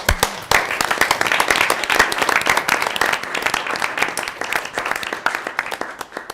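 A large group at a school board meeting applauds steadily, a dense wash of clapping that holds at full strength before tapering slightly at the end.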